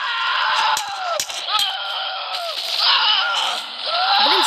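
SCP-096, the shy guy, screaming in an SCP video game: loud, shrill wailing cries that rise and bend, repeated in several bursts, punctuated by sharp clicks and thuds, harsh and close.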